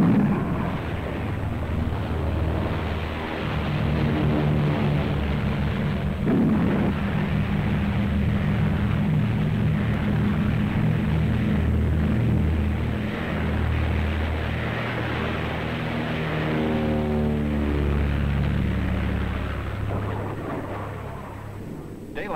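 Navy planes take off in darkness ahead of a storm and fly over Antarctic pack ice, a loud, continuous engine roar with a deep rumble that holds steady and swells in places, no voices present.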